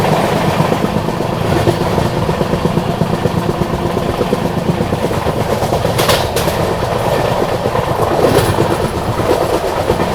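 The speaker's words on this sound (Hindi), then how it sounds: "तो यहाँ पर देखो एक और लोकल ट्रेन को अभी ओवरटेक मार दिया अपनी ट्रेन ने।" An express passenger train on the Delhi to Guwahati route runs loud and close while overtaking local trains, with continuous rumbling, rhythmic clickety-clack over rail joints and a few sharper metallic bursts.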